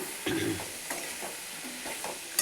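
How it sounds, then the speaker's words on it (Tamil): Brinjal and toor dal with a little salt are stirred and sautéed in a pan, giving soft scraping strokes and a faint sizzle in a few separate bursts, with no talking. "துவரையை போட்டுட்டு கொஞ்சோண்டு ஒரு அரை ஸ்பூன் உப்பு போட்டு வதக்கி விட்டுணும்."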